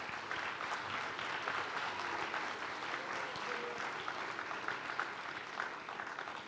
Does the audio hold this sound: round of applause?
yes